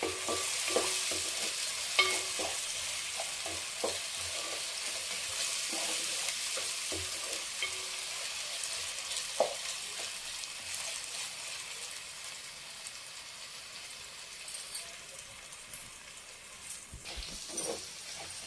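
Ginger garlic paste sizzles steadily in hot oil in a pan for an Andhra-style fish curry, a continuous bright frying hiss broken by occasional soft stirring scrapes and clicks, with no voices.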